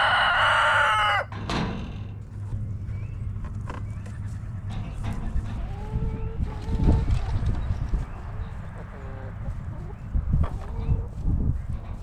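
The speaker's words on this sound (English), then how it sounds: "I've got the chickens back in the chickashaw" Chickens clucking with a rooster crowing briefly at the start, then a steady farmyard bustle of cackling birds and scattered knocks continuing throughout.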